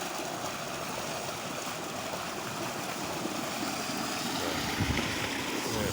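Water gushes steadily from a tubewell pipe in a continuous, fairly faint rushing flow, with no voices over it.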